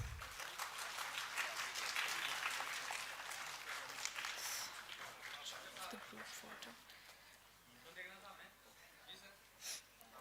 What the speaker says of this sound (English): I request all the audience to give a big round of applause.